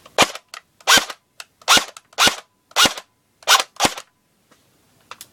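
An airsoft gun fitted with a homemade silencer fires about eight sharp, close shots in an uneven rhythm, each a crisp pop followed by a short silence, with no talking.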